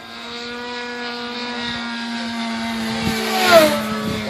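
An electric RC jet airplane, the Grayson Hobby Monster Jet, whines with a steady high-pitched ducted-fan tone that swells slightly as it passes overhead, loud and alone with no talk.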